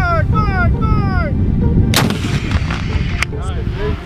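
A Swedish anti-armor weapon, such as a Carl Gustaf recoilless rifle, fires one loud sharp blast alone, with a second crack following moments later, heard amid close outdoor background noise.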